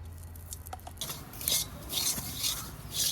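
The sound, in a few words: semolina being fried and stirred in ghee in a pan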